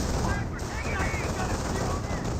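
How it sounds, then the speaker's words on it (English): MG42 machine gun fire in Company of Heroes, a fast continuous rattle of gunfire mixed with battlefield noise, fairly faint and steady for the whole stretch under a commentator's voice. "These units are getting suppressed by the MG42"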